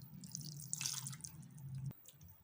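Water poured into wheat flour batter for sweet dosa gives a faint, brief trickle and dripping in a quiet kitchen over a low steady hum.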